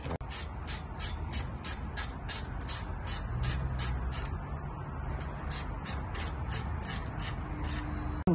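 A torque wrench ratchets steadily while tightening a brake caliper bolt during a brake pad change, giving a rapid, even series of close, crisp clicks that run for several seconds.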